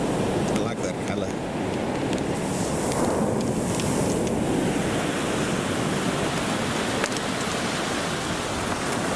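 Ocean waves wash onto the beach at Birdlings Flat, New Zealand, making a continuous broad roar of surf mixed with wind buffeting the microphone, steady and fairly loud throughout.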